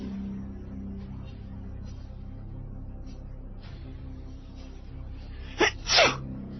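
A single loud sneeze bursts out near the end after a quiet stretch of low room hum, preceded by a quick sharp intake of breath.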